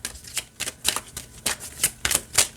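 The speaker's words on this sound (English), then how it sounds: "for 22 cards, it shuffles really nicely" A small deck of 22 archangel oracle cards is shuffled by hand, giving a steady run of crisp riffling flutters and papery slaps, close and fairly loud, with no voices.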